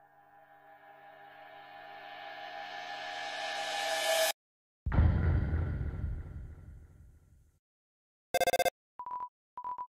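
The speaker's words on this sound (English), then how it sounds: "You get a phone call from Sans and the others." A phone call rings out at the end of the Undertale video game: after a rising musical passage cuts off, a few short electronic beeping bursts sound alone and clearly near the end.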